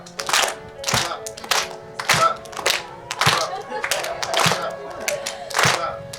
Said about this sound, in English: Can we everybody clap it?